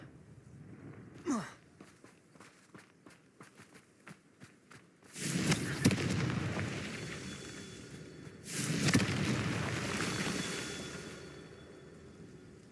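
Confringo blasting spell in Hogwarts Legacy: after light rhythmic footsteps, two big fiery whooshing blasts swell up and roar for a couple of seconds each, loud and broad, then slowly fade.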